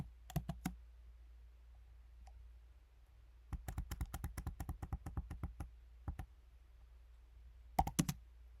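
Computer keyboard typing in short bursts of quick, close key clicks separated by pauses, with one long steady run in the middle, crisp and fairly quiet against a low hum, no voices.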